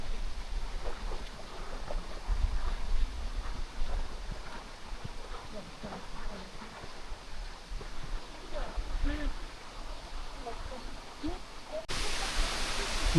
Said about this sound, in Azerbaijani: Və bu da nəhayət Dustaxana şəlaləsi.